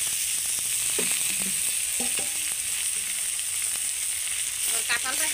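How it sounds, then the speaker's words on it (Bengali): Jackfruit pieces fry in oil among browned onions, giving a steady close sizzle throughout with occasional stirring scrapes and faint background voices. "এবার কাঁঠালটাকে অল্প ভেজে নেব সুন্দর করে, খুব বেশি ভাজবো না, অল্প সময় ভাজবো।"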